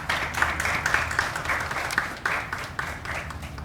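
A fashion show audience gives a round of applause, with moderate, fairly close clapping that comes in uneven bursts and carries on for several seconds.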